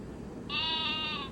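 VTech learning toy playing a sheep bleat, a single electronic wavering baa about a second long, clear and fairly close over faint background hiss.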